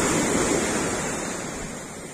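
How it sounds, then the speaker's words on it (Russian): Sea surf washing onto a beach at a Turkish resort hotel, a steady close roar of breaking waves that fills the whole stretch with no speech. "Вот такое сегодня море."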